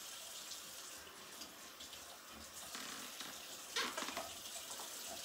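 A kitchen tap runs water steadily while pork chops are rinsed over a bowl. The stream is a continuous hiss, faint and close, with a brief splashy change near the end.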